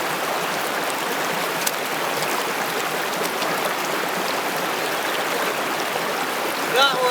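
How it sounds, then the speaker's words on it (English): A small waterfall pours into a pool on a wild trout stream, producing a steady, close, broadband rush of water that stays even throughout with no voices. "So here we have a nice little waterfall with a little bit of a pool below it."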